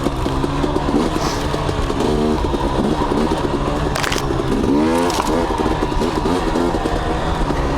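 A KTM 250 XC dirt bike engine runs steadily and loud close by while riding, its pitch rising and falling with throttle changes over a constant rumbling drone.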